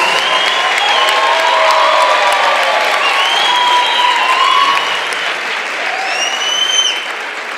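Loud, sustained applause from a Christian conference audience, with scattered whoops and voices rising above the clapping before it thins out near the end.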